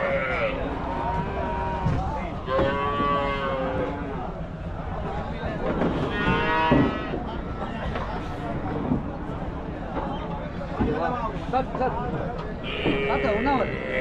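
Cattle at the Puthansanthai cow market in Tamil Nadu give intermittent lowing calls over a steady crowd hubbub. People talk close by throughout.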